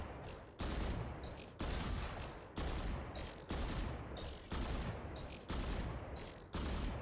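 Gunfire in the Valorant video game: regular bursts of rapid shots, about one per second, each a loud, sharp rattle that quickly fades, with no voices.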